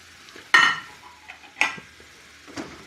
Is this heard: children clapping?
no